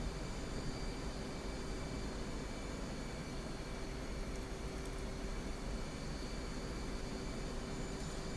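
Steady, loud roar of an F/A-18C Hornet's jet engines in DCS on landing approach with gear and flaps down, a constant broadband rush holding at one level without a break or any talk.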